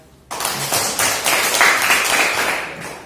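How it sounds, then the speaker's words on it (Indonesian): A classroom of students claps for a group after its answer in a mathematics lesson, dense broadband clapping starting abruptly and continuing steadily, close and fairly loud. "Tepuk tangan untuk kelompoknya Yati."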